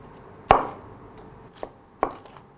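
Three sharp knife chops slicing lotus root on a cutting board, spaced irregularly with quiet gaps, close and crisp against a faint background hiss.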